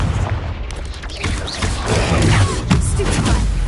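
Confringo blasting-spell explosions in a Harry Potter video game, loud, dense booming blasts and thuds piling up continuously over a rumbling game background, with a voice calling spells faintly beneath.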